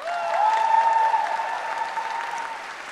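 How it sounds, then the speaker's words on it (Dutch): Sustained applause from a concert audience in a church, a steady dense wash of clapping that swells slightly and then eases, heard from within the hall with a faint tone running beneath it. "Graag een hartelijk applaus."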